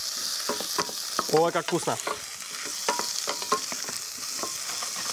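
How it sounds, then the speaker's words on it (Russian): Wooden spoon stirring zucchini frying in a pan, with a steady sizzle and scraping strokes clustered in the middle. A short spoken remark sits over the cooking. "Помешиваю ложечкой деревянной такой, опа."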